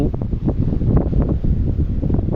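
Strong wind buffets the microphone in a loud, continuous low roar with gusty rises and falls and no talking.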